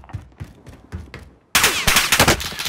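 Gunfire in Call of Duty: Modern Warfare multiplayer: faint muffled sounds and distant chatter, then an abrupt loud burst of rapid automatic shots close by for the last second.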